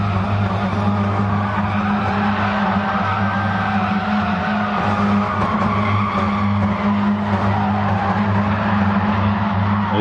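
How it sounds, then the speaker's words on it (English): A Mini race car doing a burnout, tyres squealing in a continuous loud roar over a deep steady engine drone, close by and unbroken for the whole stretch. "Looks like Captain's joined the burnout party."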